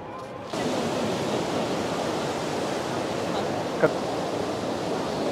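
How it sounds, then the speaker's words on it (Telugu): Motor-pumped water pours steadily into a built channel. The rush begins abruptly and then holds as a broad, continuous wash with no talk. "ఈ మోటార్ల ద్వారా నీటిని అయితే తోడుతున్నారు చూడండి. నీటిని తోడి ఇక్కడ ఒక కాలువలాగా అయితే కన్స్ట్రక్షన్ చేశారు."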